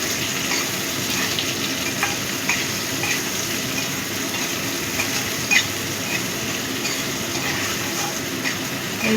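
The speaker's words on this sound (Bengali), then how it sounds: "আলুগুলো ভালো করে ভেজে নেব।" Potatoes and chopped onion frying in hot oil give a steady, dense sizzle throughout, with occasional sharper pops and the scrape of stirring, close and fairly loud with no talking.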